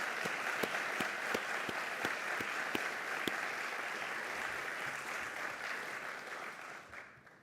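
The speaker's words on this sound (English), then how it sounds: "I really think everyone mentioned there deserves a round of applause" Audience applause at an evening startup accelerator showcase in a hall, a dense steady clapping with a few sharp louder claps near the start, sustained for about seven seconds before fading out.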